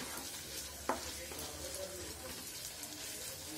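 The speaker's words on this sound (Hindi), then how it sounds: "अब हम इसमें ऐड करेंगे चॉप्ड अनियन, इसे थोड़ा फ्राई कर लेंगे।" Chopped onion fries with cumin in a pan, making a soft, continuous sizzle close by, broken by one brief stirring clatter near the start.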